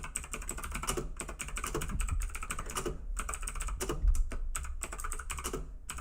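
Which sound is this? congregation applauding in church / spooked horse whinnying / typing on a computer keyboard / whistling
typing on a computer keyboard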